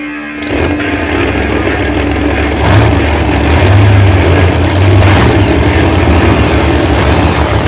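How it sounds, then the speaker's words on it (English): The Bounty Hunter monster truck's heavy engine roars to life at an indoor show in Markham, Canada, a loud, deep rumble with repeated revving surges that stays close and dominant. "Start your engines!"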